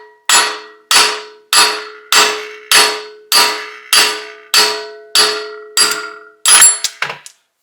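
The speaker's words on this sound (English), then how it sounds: "I'm going to use a 3-pound baby sledge and just gently tap it out from here" A 3-pound baby sledge strikes a broken wheel stud on a Subaru BRZ rear hub about ten times at an even pace, each blow a sharp ringing metallic clang that decays, then a quick scrape.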